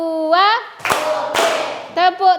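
Children in an Indonesian classroom clap their hands together on command, producing a few sharp, loud claps between bursts of children's voices chanting nearby.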